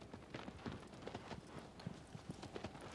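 Horse hooves clip-clopping in the video game Shadow of the Colossus, a steady walking rhythm of soft hoof strikes, moderately close and fairly quiet, with no talk over it.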